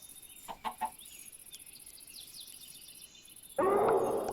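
Minecraft chickens give a few short, soft clucks in quick succession against a quiet background, followed later by a sudden loud burst of noise.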